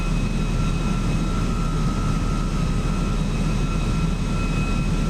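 Flight Factor A320 jet engines in X-Plane 11 flying in hurricane winds, a steady loud roaring drone with a constant whine running throughout, no voices.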